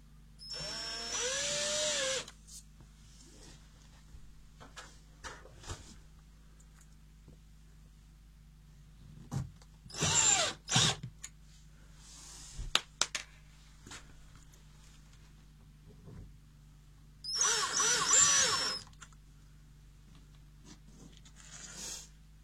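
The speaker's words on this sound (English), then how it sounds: "So let me get these 4 screws put in real quick." Power drill driving four screws into a Mr. Heater Big Buddy portable heater: three distinct whirring bursts a few seconds apart, each a couple of seconds long, close and fairly loud, with quiet handling clicks and taps between them.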